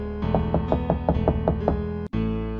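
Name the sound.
soft knocking on a hotel room door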